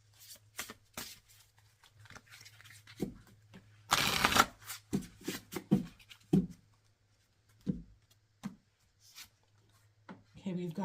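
Tarot cards are shuffled by hand in a few brisk riffling bursts, one long rustling shuffle standing out, mixed with soft card slaps and handling noises between quiet pauses.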